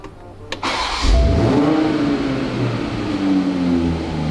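A 2019 Toyota Supra, brand new from the dealer, cranks and fires up for its first start, settling into a steady, loud engine rumble that carries on close by with no talk.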